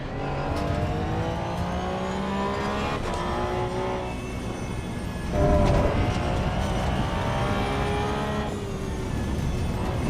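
Car in the Assetto Corsa racing game running off the track, engine droning and shifting pitch with a surge of revving midway, steady and fairly close with no talk.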